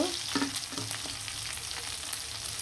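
Hilsa fish and roe fry in hot oil, a steady close sizzle with soft stirring clinks and scrapes throughout, no voices.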